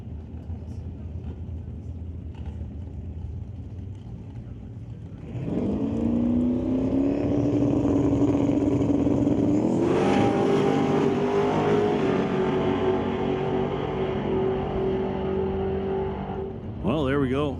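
Drag race cars making a pass at Mission Raceway Park, a distant idle rising into a loud sustained engine roar that climbs in pitch and holds, with an announcer talking over it and a sharp burst at the end.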